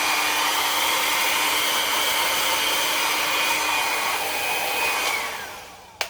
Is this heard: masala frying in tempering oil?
no